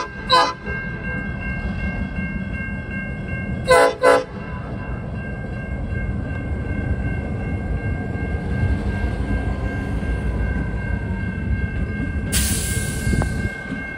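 A CN freight train rumbles steadily past at a Trenton, Michigan crossing while its horn sounds in short blasts early on, then a sustained tone, with a hiss near the end.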